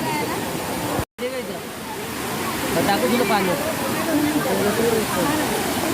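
Steady rushing water from a waterfall fills the scene, with people talking over it and a brief dropout early on.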